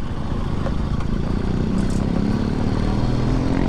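A KTM Duke 390 motorcycle engine runs close by, a loud steady throb with a rising rev toward the end and no talk over it.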